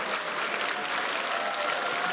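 An audience at a MAP inaugural meeting and board induction applauds, a brief burst of dense, even clapping throughout.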